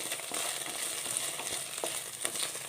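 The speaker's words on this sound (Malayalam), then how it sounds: "ഇത് വെളിച്ചെണ്ണയിലൊന്ന് വഴറ്റിയെടുക്കാം" Okra sautés gently in coconut oil over a low flame, a soft, steady close-up sizzle with faint stirring scrapes and no voices.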